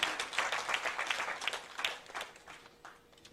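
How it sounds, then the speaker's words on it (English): An audience at Ohio Samagam 2016, an Indian community event, gives a round of applause. Dense clapping starts fairly loud and gradually thins and fades away. "So big round of applause, Mr. Wes Farback."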